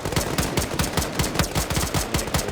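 Rapid automatic gunfire in the Xenonauts video game, a cold-war-era ground battle against aliens, with loud bursts of shots repeating quickly and evenly throughout, close and unbroken.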